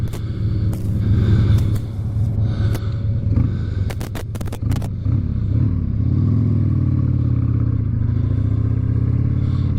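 Harley-Davidson Sportster motorcycle with a CV carburetor riding along, a steady low engine rumble with smooth acceleration and a few clattering knocks early on, close and fairly loud throughout.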